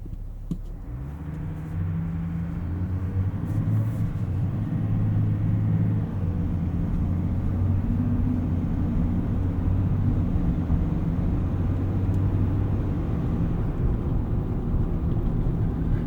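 A 2024 Chevrolet Silverado ZR2's 3.0L Duramax diesel cranks and settles into a steady low, rumbling idle that drones on evenly, heard from inside the truck.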